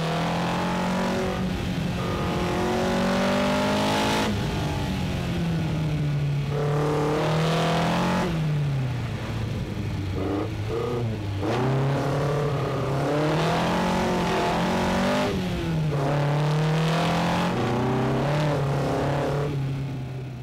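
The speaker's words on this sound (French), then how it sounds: "Éric Comas nous pilote comme dans les années 70 dans la spéciale numéro 1" An Alpine Berlinette rally car on the Saint-Jean-en-Royans special stage of the Monte-Carlo rally, its engine revving hard and loud through repeated rising gear pulls and lifts, driven flat out on the stage.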